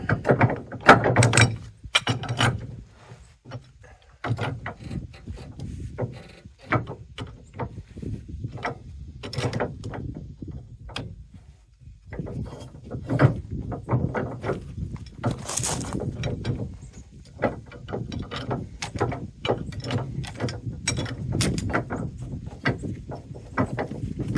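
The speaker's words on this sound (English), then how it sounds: "Sometimes you may need to put an extension bar on this to get extra. She is moving." Ratchet wrench, sometimes with an extension bar, loosening the nut on a trailer hitch ball: a long run of repeated metallic clicks and clunks of turning, close by, with brief pauses and no talk.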